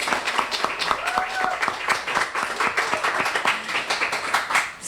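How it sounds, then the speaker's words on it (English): An audience at a League of Women Voters panel discussion on immigration claps, a steady crowd applause of many hands that holds at an even, fairly loud level throughout. "So round of applause for all of you."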